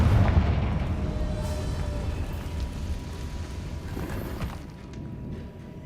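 A deep rumbling blast from the Confringo spell in Hogwarts Legacy, a broad low boom at the start that fades into a steady rumble, with no talking over it.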